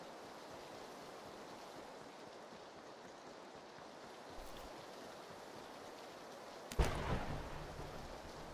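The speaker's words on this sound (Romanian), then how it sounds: "Hai de capul meu ce mă sperie tunetul ăsta" Thunder in a video game: a low rumbling ambience with a sudden loud crack near the end that rolls off into a fading rumble, with no talk.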